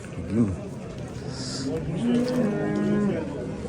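A Simmental cow gives a couple of low, drawn-out moos, fairly close, with faint voices murmuring in the background at a livestock sale.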